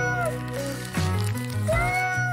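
A person imitates a cat with their voice, giving a couple of drawn-out, gliding meows in close, loud succession.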